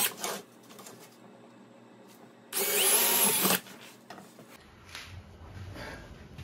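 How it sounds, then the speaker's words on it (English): A power drill boring holes in a metal bracket for mounting to plywood, heard as one loud burst of about a second of whirring, with quieter handling noise before and after. "Marking the holes on the bracket so I can drill them and connect to the plywood."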